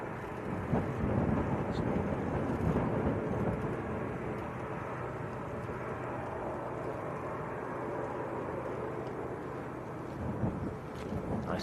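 A jet airliner taxis past at Manchester Airport, its steady broadband engine roar close and loud, holding constant throughout with a slight swell near the end.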